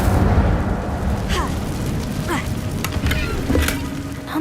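An Incendio fire spell cast inside a cave in Hogwarts Legacy, a dense roaring, crackling blast with several short whooshing flares over a rumbling low bed.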